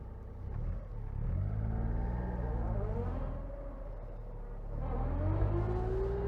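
A 1993 Honda Beat's small engine revs and rumbles while driving, rising and falling in pitch twice, close and steady with no talk.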